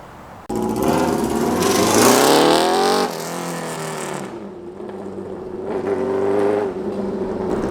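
A junkyard Honda CB750F motorcycle fitted with a cheap $8 exhaust revs loudly nearby in a parking lot, its engine pitch climbing in one sharp throttle sweep, then dropping to a rough idle before a second, smaller rise.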